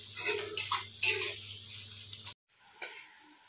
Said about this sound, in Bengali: আর দেওয়া হচ্ছে 5-6টা কারি পাতা দিয়ে এটাকে এবার ফ্রাই করতে হবে।